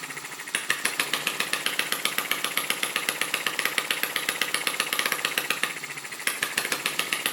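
A Lister D model stationary engine runs steadily nearby with a fast, even chugging beat, its exhaust pulses shifting slightly as the throttle is adjusted up and down.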